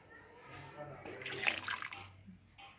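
Water is poured into a pan of katla fish curry, a brief splashing gush rising and fading in the middle of a quiet kitchen.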